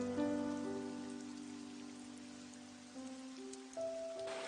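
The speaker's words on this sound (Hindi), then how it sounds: "लगता है ये बारिश अभी रुकेगी नहीं" Steady rain falls in a soft, continuous hiss, with sustained musical tones layered over it throughout.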